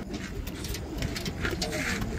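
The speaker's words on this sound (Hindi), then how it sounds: "गोल्डन कबूतर है, राजस्थानी कबूतर है, शाहजहाँपुरी हैं।" Golden Rajasthani and Shahjahanpuri pigeons coo softly in a loft, with several overlapping low throaty calls and faint rustling heard close by at low volume.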